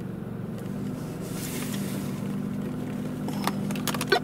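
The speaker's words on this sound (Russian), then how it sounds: "Двигатель прогрет, стоит РХХ Шивы Нивы." Warmed-up Chevrolet Niva engine idling with its idle air control valve fitted, a steady low hum heard up close, with a few small clicks and rattles near the end.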